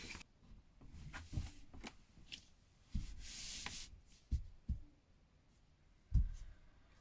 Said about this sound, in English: We are putting the pieces back in the envelope.